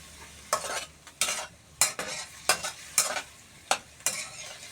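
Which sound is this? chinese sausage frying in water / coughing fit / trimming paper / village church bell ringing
chinese sausage frying in water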